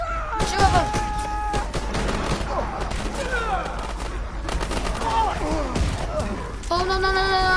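Gunfire in a World War II shooter, dense bursts of rifle and machine-gun shots crackling loud and close, with voices calling out over it.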